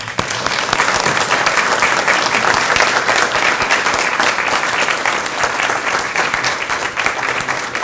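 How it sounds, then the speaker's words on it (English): Guests at the University of Dubuque alumni recognition brunch break into loud applause, a steady, dense clatter of many hands that begins abruptly and carries on without pause. "I'd like everybody to give her a round of applause"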